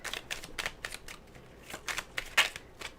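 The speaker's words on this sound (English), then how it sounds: "let's give it a shuffle" A deck of tarot cards is shuffled in short, soft riffling bursts spaced irregularly, close by but fairly quiet, with one sharper snap near the end and no voices.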